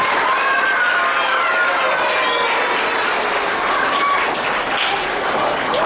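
Audience applause with some cheering fills a school hall at an inter-primary soccer celebration, a dense, steady wash of clapping lasting throughout with a few voices mixed in.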